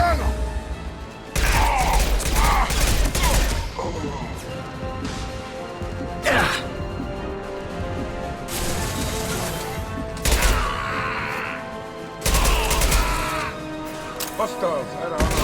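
Heavy gunfire in the video game Mass Effect 2, with repeated loud bursts of automatic fire and crashing impacts over several seconds, mixed with shouted voices and combat chatter.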